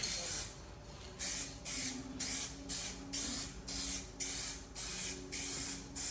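Spray gun laying a light tack coat of paint on a drift car under prep, heard as a series of about ten short, close hissing bursts in a steady on-off rhythm with a faint low hum between passes.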